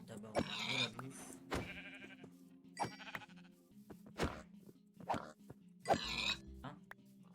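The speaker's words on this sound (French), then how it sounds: "J'en profite aussi, il y a des moutons" Sheep in Minecraft bleat several times, short nasal cries at moderate level separated by brief gaps, with faint game sounds underneath.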